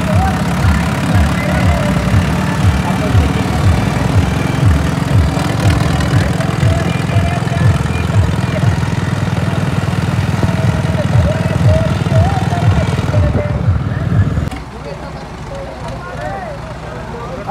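A tractor engine runs steadily at a tochan tractor-pulling tournament in Kasni, Jhajjar, with a loud, fast, even low thumping that carries under crowd chatter and talk, then drops away abruptly near the end.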